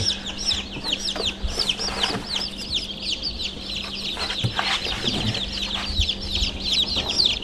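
Many newly hatched baby chicks peep continuously in high, overlapping chirps, close by in a brooder box, with a steady low hum underneath.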